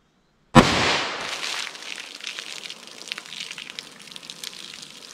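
A .357 Magnum fires an Inceptor ARX plastic bullet into a ballistic box holding denim and a baloney pack. One sharp, loud, close shot lands after a brief silence, then a long noisy decay of rattling and ringing.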